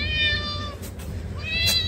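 A cat in Turkey meows twice, the first call drawn out and wavering, the second shorter after a brief pause, close and clear over a low background murmur.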